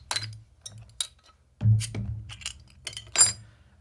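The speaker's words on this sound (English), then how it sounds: "I'm gonna just pop both open." Two Paulaner Oktoberfest beer bottles being opened, with sharp metallic cap clicks, clinks of glass and a couple of short hissing pops, close and distinct against quiet gaps.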